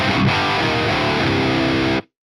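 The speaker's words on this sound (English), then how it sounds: "I'm going to try put my synth through the Misha plugin with the glitch." A synth run through the Archetype Misha Mansour guitar amp plugin with a glitch effect, giving a dense, distorted, heavily processed tone that plays loud and steady for about two seconds before cutting off abruptly.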